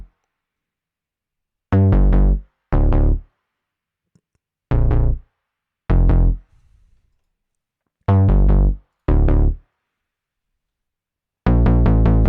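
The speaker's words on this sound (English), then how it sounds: "from Omnisphere. It's called Minimoog Octa Bass." Minimoog Octa Bass patch from Omnisphere playing short, punchy bass notes in pairs separated by silent gaps, loud and upfront, with no talking.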